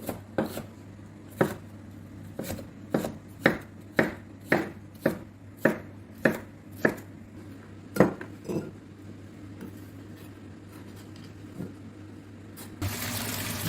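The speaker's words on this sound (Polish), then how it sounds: "Teraz pokrójmy paprykę. Taką kosteczkę najlepiej." A knife dices a bell pepper on a cutting board, about a dozen crisp, evenly spaced strikes, then slows to a few scattered taps before a burst of clatter.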